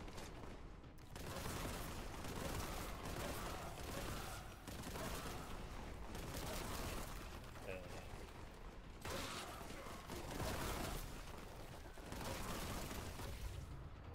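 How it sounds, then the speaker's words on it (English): Bolt gun firing in the Warhammer 40K Boltgun video game: dense, loud, sustained rapid gunfire that runs through most of the stretch, with brief pauses near the start and middle, heavy booming shots layered over mechanical clatter. "The pitch of the weapon even gets lower as the mag empties."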